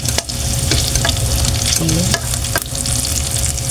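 Salt-braised pork adobo frying hard in a pan, dense crackling sizzle and spatter with a few stirring scrapes, close and loud; someone briefly speaks over it.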